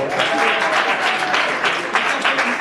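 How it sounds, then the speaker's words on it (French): Loud, dense applause from an awards ceremony audience in a hotel venue, a continuous wash of many hands clapping close by for a few seconds. "Est-ce qu'on peut applaudir bien fort?"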